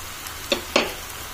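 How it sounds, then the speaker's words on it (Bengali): Tomato paste cooks in hot oil for a Bengali bhetki fish kalia, a soft continuous sizzle broken by two quick scraping clicks of stirring, close by and with no voices. "এবার আমি দিয়ে দিচ্ছি টমেটোর পেস্টটা।"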